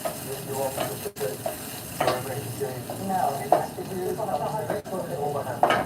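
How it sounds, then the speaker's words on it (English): Onions sizzle in hot oil in a home kitchen while a pilau dinner is prepared, a steady frying crackle with occasional stirring and clinks beneath a person talking. "as the onions cook"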